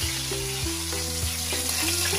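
Chicken coated for a crispy fry sizzles steadily in a pan, a continuous close hiss with a faint tonal hum underneath and no talking.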